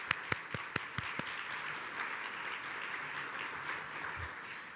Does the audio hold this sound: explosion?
no